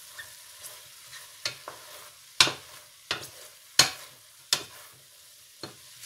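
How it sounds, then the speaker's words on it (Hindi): Chopped garlic added to minced meat in a pan, with a quiet background sizzle broken by repeated sharp spatula scrapes and clinks at an uneven pace. "तो अब डालेंगे इसमें लहसुन, ये जो चॉप करके रखा हुआ था, इसको डाल के भूनेंगे"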